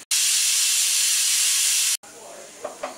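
A kitchen pressure cooker cooking peas pulao on a gas stove lets out a loud, steady hissing whistle for about two seconds, which stops abruptly, followed by quieter room sounds with a couple of faint knocks.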